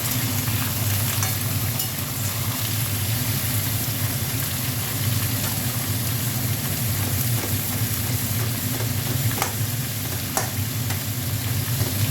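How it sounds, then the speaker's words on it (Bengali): Vegetables fry in a pan alongside a hilsa fish head for a Malabar spinach dish, a loud, continuous sizzle close up with a low steady hum underneath and occasional small clicks. "সবজিগুলো একটু ভাজা ভাজা করে নেব।"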